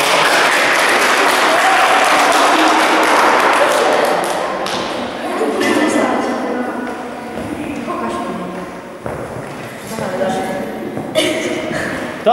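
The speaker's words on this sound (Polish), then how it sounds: "Brawa dla Patryka, cześć." Audience applause at a medieval knight show, a dense burst of clapping that is loud at first and then fades over several seconds, with a voice talking over the later part.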